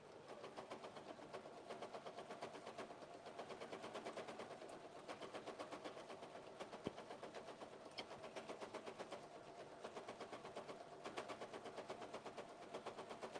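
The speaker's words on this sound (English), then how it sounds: "It's got a lot of thudding because what it's doing when I'm sewing, because I've got those pleats at the top of the skirt, that's what it's sewing through." Domestic sewing machine stitching through thick pleats at the top of a skirt, a steady rapid mechanical chatter with repeated heavy thuds, moderately close and continuous, with no talking.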